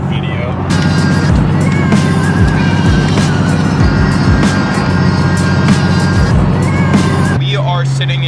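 A car cruising at 70 mph in fifth gear around 2,600 RPM hums steadily from inside the cabin, a loud, even engine and road drone with people talking over it.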